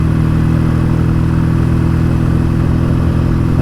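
A BSA A10 650 Super Rocket motorcycle engine runs while being ridden through traffic, giving a loud, steady, close-up drone with a constant throbbing rumble and no voices.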